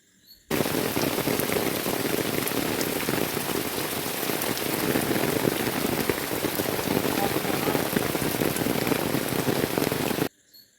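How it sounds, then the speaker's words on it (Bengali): Heavy rain pours onto the ground and waterlogged fields, a loud, dense, unbroken patter that starts abruptly and stops abruptly. "অঝোরধারায় বৃষ্টি পড়ছে আর চারিদিকে মাঠে ঘাটে আমাদের এখানে জল জমে গেছে"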